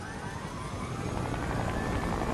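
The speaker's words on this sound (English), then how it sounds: "I like how we just move around in helicopters" A helicopter flies in a video game, giving a continuous, moderately loud rotor and engine drone that holds steady for the whole short stretch with no talk.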